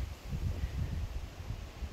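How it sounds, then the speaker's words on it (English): Gusty hilltop wind on Bodmin Moor near Advent Church, Camelford, buffets the microphone in low, uneven rumbles, fairly faint, with no voices. "Probably have to shout a bit louder today because it's very windy up here."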